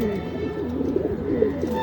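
Pigeons kept in a home loft in a former chicken coop coo steadily and close by, a continuous low throaty burbling with no pauses.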